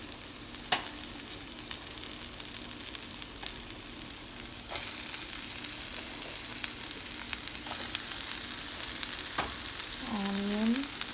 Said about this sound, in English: Once the oil got heat, add the chopped vegetables and ginger garlic paste